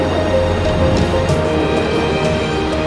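Inside a moving Dhaka metro rail train: a steady, fairly loud low rumble and rolling hum of the carriage, with faint squeaks and no voices.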